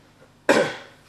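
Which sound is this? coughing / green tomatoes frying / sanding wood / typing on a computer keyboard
coughing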